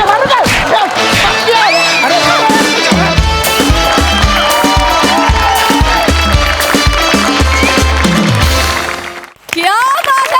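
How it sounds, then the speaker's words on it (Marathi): Loud crowd noise from a live Marathi comedy show audience, dense cheering and whooping mixed with music and voices, sustained and close, dipping briefly near the end before resuming. "जोरदार टाळ्या"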